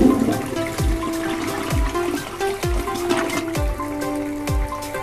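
A toilet flushes in a VR PC-building training game, a continuous rushing, gurgling wash of water with rhythmic low thumps running under it for several seconds, no voices.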